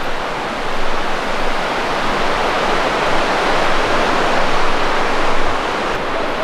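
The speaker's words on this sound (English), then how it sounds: "there's the river" The Capilano River in Vancouver rushes far below the suspension bridge as a loud, steady broadband roar of whitewater, unbroken throughout and with no voices.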